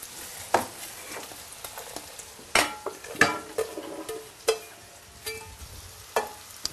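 Sliced courgettes sizzle in a hot pan as they are stirred for a Provençal tart, a steady frying hiss broken by repeated clinks and scrapes of a utensil against the pan, close and without talk.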